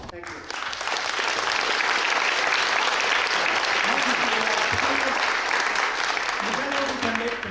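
Sustained applause from the audience at an all-candidates environmental forum in Coquitlam, a full, even roar of clapping, with a voice speaking briefly over it.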